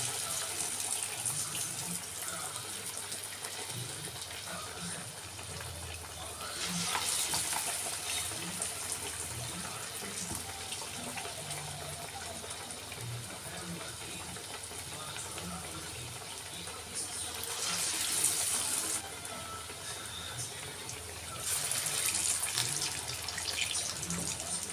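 Vadas made from black chickpeas and moong dal fry in hot oil with a continuous hissing sizzle, swelling into louder bursts a few times as fresh batter goes in.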